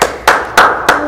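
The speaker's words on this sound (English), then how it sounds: "Let's give them an applause." Four sharp, evenly spaced loud claps at a kids' church event, close and crisp, each with a short decay.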